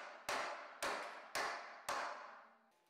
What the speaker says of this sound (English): the sharp bends were formed with a soft hammer and the vise